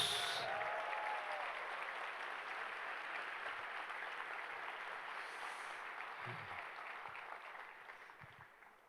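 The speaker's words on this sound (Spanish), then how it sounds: "¿Quieren aplaudir a Jesús?" A church congregation in Bucaramanga applauds for Jesus during a sermon, a sustained roomful of clapping that holds fairly evenly and then slowly fades toward the end, heard at a modest distance.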